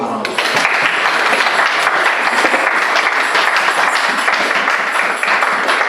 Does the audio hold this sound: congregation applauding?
yes